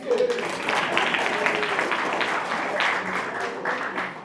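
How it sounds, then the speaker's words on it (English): A room of alumni and guests applauds at a storytelling event, many hands clapping in a continuous, moderately loud wash with a brief tonal sound at the start. "Let's give him a round of applause"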